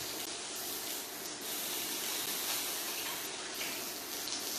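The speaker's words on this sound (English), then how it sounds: "I'm just going to wash my hands." Tap water runs steadily into a sink while hands are washed under it, a close, continuous splashing hiss with slight shifts in the flow and no talking.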